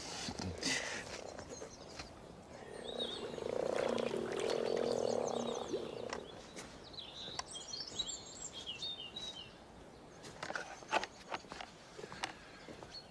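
Frogs croak in a swelling chorus, loudest in the middle stretch, with scattered bird chirps and a few footsteps around it.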